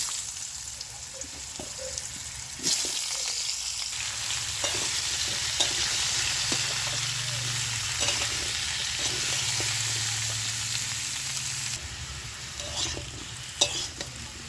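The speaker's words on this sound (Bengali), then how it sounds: "এবার আমি চাল কুমড়োটাও লাল করে ভেজে নেব।" Pieces of ash gourd fry in hot oil for a Bengali vegetarian curry, a steady close sizzle with occasional stirring clicks and scrapes throughout, no talking.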